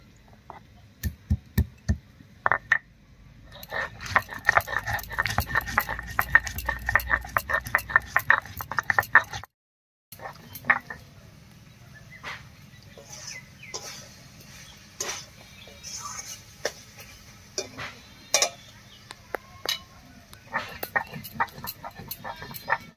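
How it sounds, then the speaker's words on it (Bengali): Soaked atap rice and garam masala are ground into a paste by hand, with rhythmic knocks and then a continuous scraping grind. Someone talks intermittently over the work. "এবারে বেটে নেব।"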